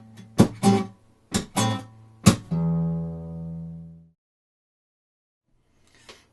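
At speed, a guitar plays the slap and pluck pattern from a song: a quick run of percussive slaps and plucks, then a chord left ringing for over a second before silence and a faint soft tap.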